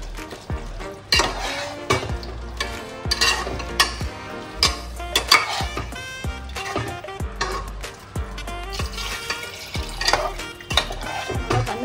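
Chicken sizzles in a pot while a utensil repeatedly scrapes and clinks against the metal, an uneven stirring rhythm up close.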